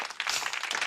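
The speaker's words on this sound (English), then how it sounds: "Polite applause." Short burst of light, polite applause from a small group, a brief patter of clapping heard close and alone.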